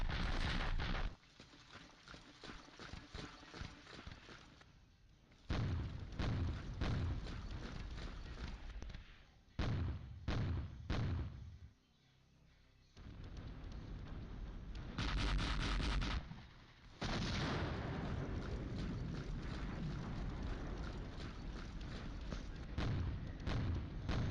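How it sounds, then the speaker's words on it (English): Mortar and artillery fire in the wargame Flashpoint Campaigns: Southern Storm, heavy booming blasts and rumbling explosions that come in repeated bursts with brief lulls, loud and dense throughout. "Oh, that's probably their mortars."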